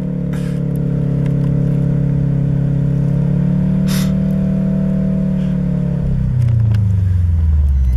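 A Subaru Forester on summer tires strains uphill through snow off-road, its engine droning loud and steady with a sustained rev that drops in pitch near the end as the car shifts or eases off.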